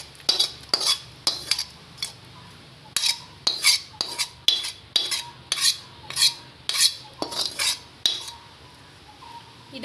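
A metal spoon stirs and scrapes a pot while bread kottu is being cooked, making about a dozen sharp clanks and scrapes in an uneven rhythm. The sound is close and loud, with a faint low hum underneath and no talking.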